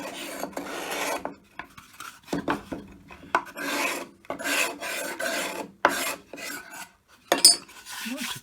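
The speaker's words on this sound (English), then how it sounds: "I'll give the light scrape" Old wooden butterfly house being scraped lightly by hand, a series of short rasping strokes in an uneven rhythm with brief pauses, close and fairly quiet, no talk.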